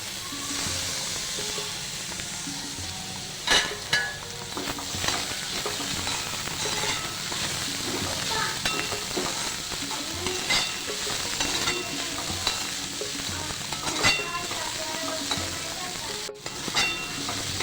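Sabudana khichdi made with sugar, salt and lemon juice is stirred and mixed in a hot pan. A continuous sizzle runs throughout, with scattered scraping and clinking from the spoon. The sound is close and steady and nobody speaks.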